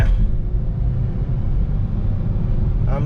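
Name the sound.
Ford Escape 2.0 turbo accelerating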